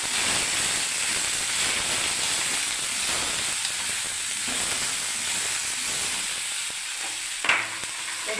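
Tomato, green chilli and ginger paste sizzle steadily in a pan for an eggplant and raw banana dish, a continuous hiss with one brief clatter near the end and no talk.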